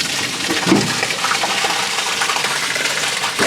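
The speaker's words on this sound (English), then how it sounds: "I was just dumping them because we just water tested it." Water rushes out of the black tank of a 2022 Cedar Creek 377BH RV during dumping, a loud, steady gushing flow with no breaks, close by and with no talking.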